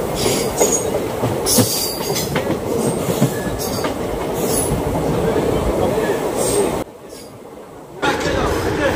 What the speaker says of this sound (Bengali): আমাদের ট্রেন ঢুকছে এখন ছয়গাঁও স্টেশনে, প্ল্যাটফর্ম নাম্বার 2 ছয়গাঁও।